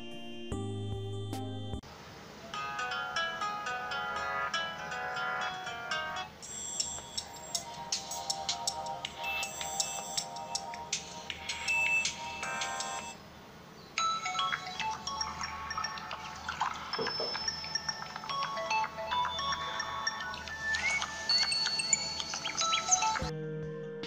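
A chirpy electronic ringtone melody plays through the small loudspeaker of a QMobile S6s phone lying on a flat surface, tinny and bright, with a short pause midway before the tune resumes.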